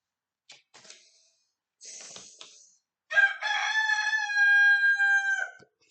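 A rooster lets out one long, loud, drawn-out crow near the end, preceded by a few faint, scattered short sounds and quiet pauses.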